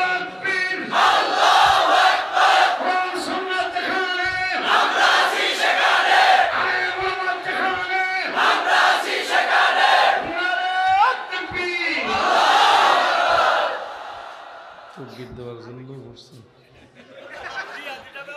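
A large crowd at a Bengali Islamic religious gathering roars the takbir chant in loud, rhythmic collective shouts that repeat several times, then fades toward quieter murmuring and a lone voice.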